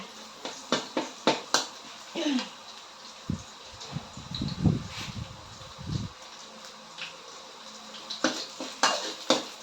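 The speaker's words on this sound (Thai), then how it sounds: "ผัดกระเทียมให้หอม ผัดกระเทียมให้หอมเลย" Garlic being stir-fried in a pan for a minced-pork and shiitake mushroom stir-fry, with a spatula scraping and clanking against the metal in bursts, a few sharp taps, and a soft sizzle underneath.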